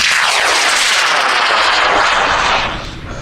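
High power rocket on a J650 sugar motor, dual deploy, lifting off at Airfest 29 in Argonia, Kansas: a loud, close, roaring rush of motor thrust that holds steady then begins to fade away.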